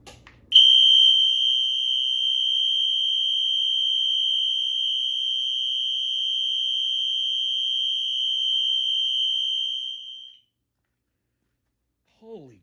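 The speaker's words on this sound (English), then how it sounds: "we'll do the exceeder, which is on high volume continuous" A Wheelock Exceeder fire alarm horn set to high volume continuous blares as one steady, piercing electronic tone, very loud and close, for about ten seconds before cutting off abruptly.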